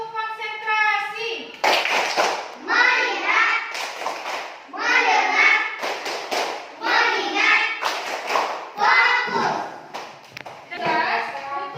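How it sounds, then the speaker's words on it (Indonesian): Children chant the tepuk konsentrasi clapping routine in a classroom, their voices rising and falling in rhythmic bursts with claps and hand taps mixed into the chanting. "Sekali lagi coba tepuk konsentrasi."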